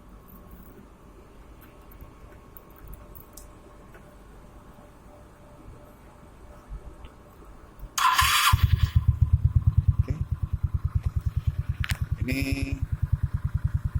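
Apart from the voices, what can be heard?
scooter engine starting and idling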